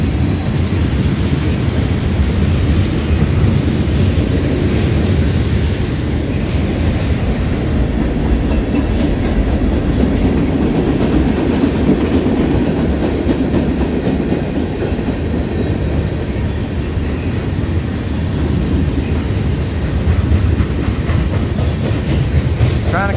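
Norfolk Southern freight train 38G, led by NS 3615, rolls through Tarentum, Pennsylvania with a loud, continuous rumble of passing cars, rhythmic wheel clatter and intermittent high squeals sustained throughout.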